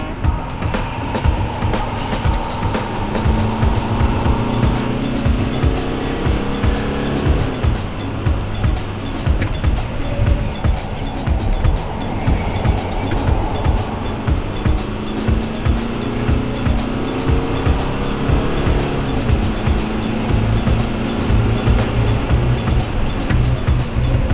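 A Mercedes-Benz E-Class 250 diesel rental car accelerates at high speed, with steady loud engine drone and road and wind roar throughout, several rising engine pitch sweeps as it pulls.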